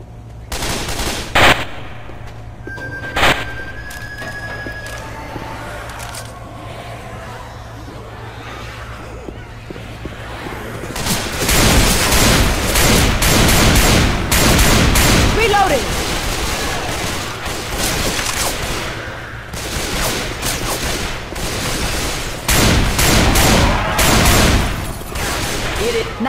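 Rapid automatic gunfire from Left 4 Dead 2 zombie-shooter gameplay in a mall, loud bursts and sustained volleys filling the second half after a quieter start with isolated shots, with a voice speaking briefly.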